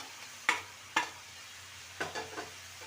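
Ground coriander, cumin, chilli and Kashmiri chilli powders with ginger paste are stirred in a pan, giving four short scraping strokes over a soft, steady sizzle with no talking.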